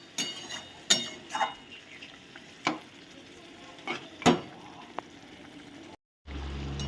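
Mutton sautéing in a pan while being pressed and stirred, with scattered scraping and knocking strokes over a faint low sizzle, spaced irregularly, then a brief cut to silence near the end.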